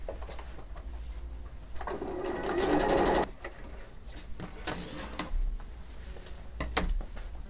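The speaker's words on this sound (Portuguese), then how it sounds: "Agora eu vou costurar." Sewing machine stitching a patchwork tablecloth, a steady mechanical whir that swells louder for about a second mid-clip before settling back, with small clicks and handling knocks around it and no talking.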